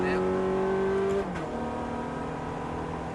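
A Ferrari F430 accelerates hard on a circuit: the engine note climbs loudly, drops sharply at a gear change, then pulls again with a steady roar.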